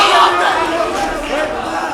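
Fans cheer and shout in a packed fight arena during a championship bout, their crowd noise a busy, continuous murmur with raised voices, layered under a commentator's talk.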